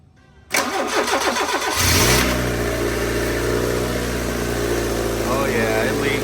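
A car engine on a project car with a suspected leak cranks briefly, then catches and settles into a loud, steady idle close by.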